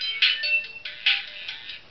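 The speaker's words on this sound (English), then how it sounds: "Ringtones are pretty loud, depending on what you choose." A small basic phone plays a ringtone through its little speaker, a bright electronic melody of short repeated tones, fairly loud and close with no talking.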